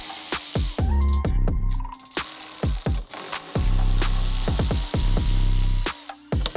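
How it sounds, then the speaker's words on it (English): Two 8mm bolts being backed out of a carbon fiber splash guard on a G9X BMW M5, a close run of sharp clicking ratchet strokes in quick bursts with brief gaps. "We have 2 8mm bolts to take out."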